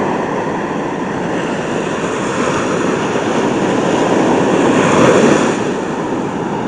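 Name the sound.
big ocean waves crashing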